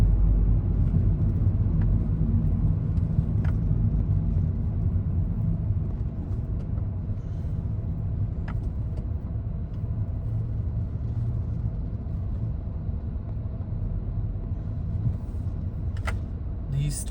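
Changan Eado car driving through slow, steady night traffic in Riyadh, a continuous low interior road rumble with engine drone and a few faint clicks and knocks.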